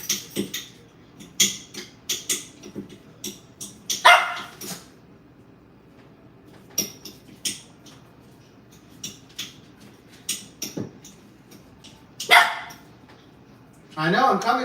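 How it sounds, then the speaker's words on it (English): A dog barks in short, repeated bursts while waiting for food at home, sharp yips scattered between quieter moments, close to the listener, with a person speaking nearby. "I know Tula's gonna bark, but she's She's like, hey, give it to me"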